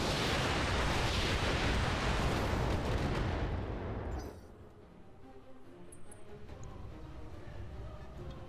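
In the mech combat game Roguetech, a heavy roar of weapons fire and explosions dominates the first half, then fades to a quieter rumbling backdrop with small distant impacts.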